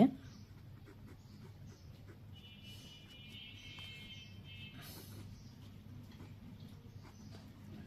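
A pen writes out a math solution, giving faint, intermittent scratching under a person speaking steadily close by.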